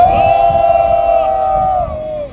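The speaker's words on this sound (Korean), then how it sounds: "우리 모두 격려의 함성 와를 3초만 부탁드립니다." A crowd of supporters at an outdoor press conference near the Yi Sun-sin statue lets out a loud, sustained unified "wah" cheer. It holds for about two seconds before trailing off.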